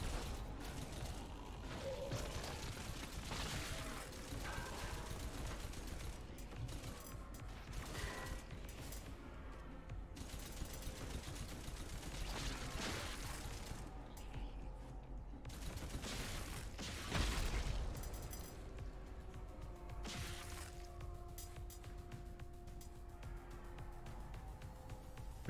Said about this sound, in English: I just got a rocket launcher. It's shooting the guys.